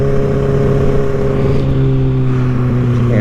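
2023 Kawasaki ZX6R KRT motorcycle engine running at a steady, loud, close drone with strong humming tones, no rise or fall over the few seconds.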